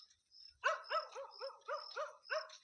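Dog barking at night: a rapid series of about eight sharp barks heard fairly close and alone, with no talk over them.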